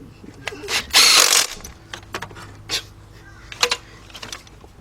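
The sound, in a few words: ratchet tightening two 12mm engine bolts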